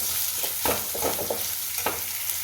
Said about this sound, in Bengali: এগুলো হালকা করে ভেজে নিই যাতে কাঁচা পেঁয়াজের গন্ধটা চলে যায়।